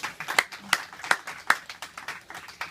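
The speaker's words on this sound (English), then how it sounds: "that's about a round of applause for the alligator" Scattered audience clapping at an alligator wrestling show in a Miccosukee village, a sparse irregular patter of individual claps rather than a full ovation.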